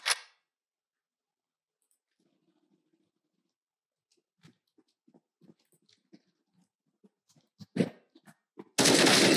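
A gun in the video game Counter-Strike 2: sparse faint clicks and ticks, a sharp crack near the eighth second, then a loud, dense burst of gunfire at the very end.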